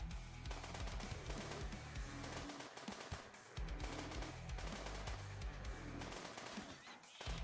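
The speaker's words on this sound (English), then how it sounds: "Why are you shooting the raccoon?" Rapid gunfire bursts from a chaotic castle defense game, loud and continuous with a brief lull midway, layered over a pulsing low game soundtrack.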